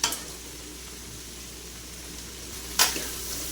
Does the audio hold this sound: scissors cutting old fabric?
no